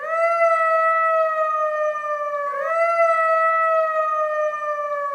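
A voice imitates a jackal's howl, a long, steady, clear tone that dips briefly midway and then carries on, sustained and alone for several seconds.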